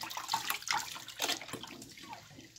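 Regular flour dough is kneaded and rinsed in a bowl of water to make seitan, giving soft, close sloshing and splashing in uneven bursts with quiet gaps between.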